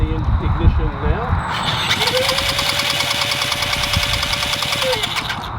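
A small UAV helicopter's engine is primed and cranked into life, rising into a steady, buzzing near-field drone with a whining tone under it, after a few seconds of rougher starting noise.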